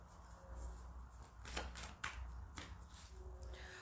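Tarot cards being shuffled and redrawn by hand, quiet close riffles and several sharp card snaps and slaps at irregular intervals.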